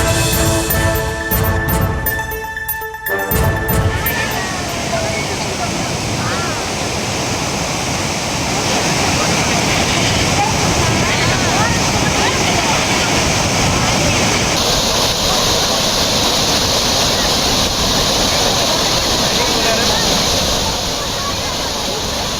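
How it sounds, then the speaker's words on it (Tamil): Courtallam waterfalls in flood, a heavy continuous roar of rushing water that stays loud and steady throughout, with a brief burst of other sound at the very start. "குற்றால அருவிகளில் வெள்ளம் பெருக்கெடுத்து ஓடுவதால்"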